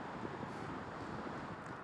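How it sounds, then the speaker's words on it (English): Strong wind blows along the I-70 highway corridor on a cold day, a steady, loud broadband rush battering the microphone throughout, with no distinct gusts or breaks. "The wind has died down a bit, but still a bit windy at the same time."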